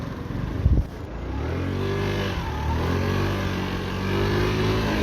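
Japanese Honda Dio AF68 fuel-injected four-stroke scooter starts with a short cranking burst, then settles into a steady, close idle hum with slight rises in engine pitch.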